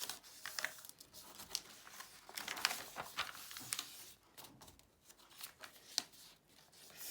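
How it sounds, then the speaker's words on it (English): A sheet of paper is folded into three narrow strips along its edge, producing a run of crisp crinkling, creasing and rustling sounds at close range, without speech. "make 3 folds about 2 centimetres wide down the edge of your piece of paper, lining it up nice and straight."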